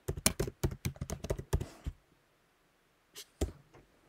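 Password typed on a computer keyboard, a quick close run of about a dozen crisp key clicks, then a pause and two more isolated taps.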